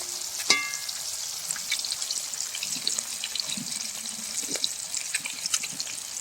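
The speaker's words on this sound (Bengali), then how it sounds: "মাছগুলো এখন আমি উঠিয়ে দেবো। ভালো করে ভেজে নেব।" Fish fry in a pan with a steady, close hiss and crackle, a sharp clink of a utensil near the start and scattered soft spatters over the continuous sizzle.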